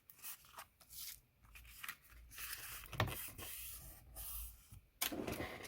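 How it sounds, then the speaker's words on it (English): A paper card for a stamp craft project is folded in half, making close rustling, rubbing and creasing sounds in short bursts with brief pauses, and no one talks. "Just fold this in half real quick."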